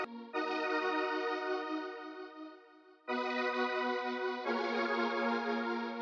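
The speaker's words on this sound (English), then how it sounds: "So here's what that pad sounds like." Synth pad preset 24 from a One Shot Kit in FL Studio, a sustained harmonic-rich chord tone that holds steady, cuts off briefly near the three-second mark, then returns and swells brighter, playing alone with no voices.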